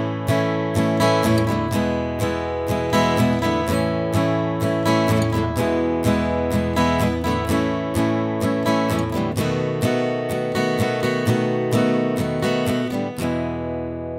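An acoustic guitar strums the verse pattern of a song, with steady rhythmic chord strokes ringing close and clear for about fourteen seconds before letting the last chord fade.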